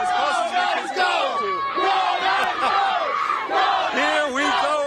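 A large crowd at a Stanley Cup victory parade in Toshiba Plaza roars and cheers loudly and continuously, dense and close, with many voices shouting over one another throughout.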